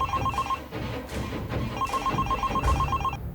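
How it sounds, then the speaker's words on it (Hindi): A mobile phone rings with a repeating electronic trill in short bursts, medium loud over a busy background of other noise, with no voices. "अरे मेरा फोन बज"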